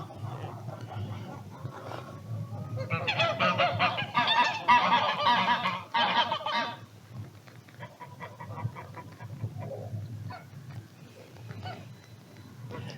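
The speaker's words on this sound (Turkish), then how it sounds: "kaz nasıl saldırıyor" Several geese honk loudly and repeatedly at close range while attacking, a burst of harsh overlapping calls in the middle, with quieter honks and rustling before and after.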